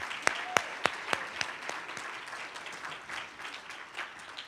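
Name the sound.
audience applause at chamber lunch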